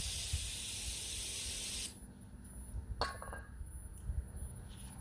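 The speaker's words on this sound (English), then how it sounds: "I'm not direct spray into the throttle body, so I use like a clean rag, spray on it" A steady spray of throttle body cleaner onto a clean rag hisses loudly for about two seconds, then stops, followed by quiet rustling and a faint click.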